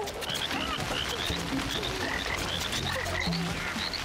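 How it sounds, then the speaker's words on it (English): Frogs croak continuously in the WorldBox sandbox game, a dense overlapping chorus of quick chirping croaks repeating steadily over a busy background throughout. "here are the frogs"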